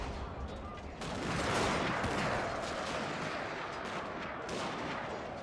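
Massed infantry rifle fire from a Total War: Shogun 2 Fall of the Samurai battle, a dense continuous crackle of overlapping shots that swells after the first second and holds steady without letting up.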